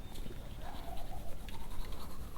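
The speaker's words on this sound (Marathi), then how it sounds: "सो आपण दात घासूया" A toothbrush scrubs teeth close up in a steady, continuous rasp with quick back-and-forth strokes, with faint birdsong in the background.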